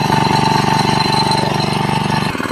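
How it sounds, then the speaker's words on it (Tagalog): A cultivator's motor drones steadily at close range while it works manure into garden soil for planting eggplant, a busy mechanical rattle running throughout before cutting off sharply near the end. "ihahalo naman po yan natin sa pamamagitan ng makina"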